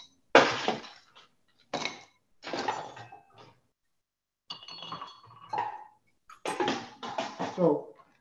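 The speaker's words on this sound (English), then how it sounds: "go ahead and feel free to stir in your mixing glass" Bar spoon stirring a cocktail in a mixing glass: bursts of clinking and rattling ice against glass, loud and close, separated by short pauses.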